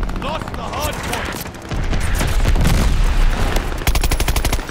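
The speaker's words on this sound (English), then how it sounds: "Are we being shot right now?" Rapid automatic gunfire and bursts of shots in a Call of Duty: Vanguard multiplayer match, loud and close with dense overlapping fire and a sharp rattling burst near the end, mixed with game effects and voices.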